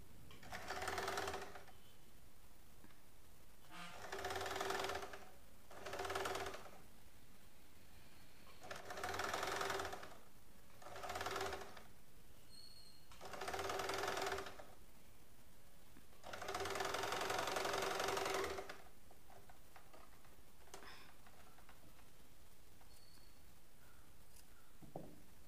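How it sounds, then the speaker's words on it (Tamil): Sewing machine stitching the neckline of a kid's frock in bursts of rapid whirring, six or seven runs of varying length separated by short quiet pauses, fairly faint and close. "இப்போ நெக் லைன் தைப்போம்."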